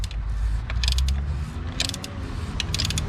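A threaded oil filter cap on a Jeep Wrangler 3.6L is loosened by hand, giving a few sharp clicking ratchet bursts over a low steady rumble, close and moderately loud.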